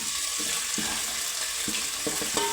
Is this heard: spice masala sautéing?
yes